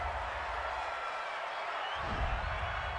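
Home crowd at a Detroit Lions versus Green Bay Packers NFL football game, a broad continuous stadium roar of cheering, loud and steady with a low rumble swelling near the end.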